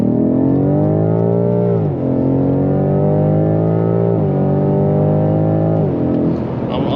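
BMW M5 Competition pulling hard at night, a loud, close engine note climbing steadily in pitch through three rising sweeps, each broken by a sharp drop at a gear change, with no talking.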